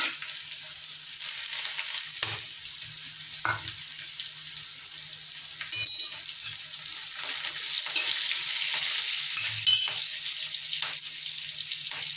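Black masala and red chili powder are stirred in a hot frying pan for rava upma, giving a soft continuous sizzle with occasional scraping of the spoon.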